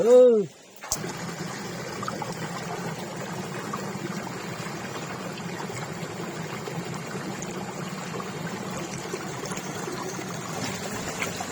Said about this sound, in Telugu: రాను రాను నీళ్ళు బాగా ఉన్నాయిరా